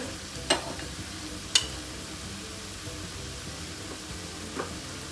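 Turmeric, Kashmiri chili and coriander powders being stirred into a frying okra masala, a low steady sizzle with a few sharp spoon scrapes against the pan, close with no talking.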